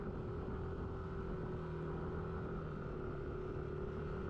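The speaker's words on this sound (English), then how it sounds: "Surprisingly powerful little engine, really." A small motorcycle engine drones steadily as it labors up a steep hill on a ride through the Yorkshire Dales. The hum stays constant and close, with no pauses or talk.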